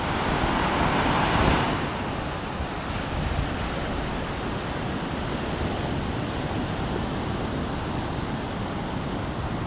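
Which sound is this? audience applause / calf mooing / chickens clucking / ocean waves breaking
ocean waves breaking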